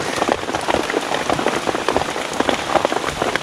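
Heavy rain pours steadily at night in a mountain forest, drops pattering densely and close on surfaces all around without a break.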